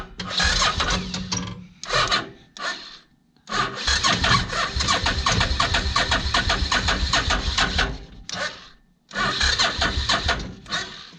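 A Suzuki VX800 engine in a go kart cranks over loudly in a series of long grinding bursts separated by short pauses, close by and with no one talking.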